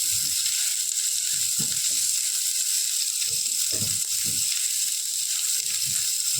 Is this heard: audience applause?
no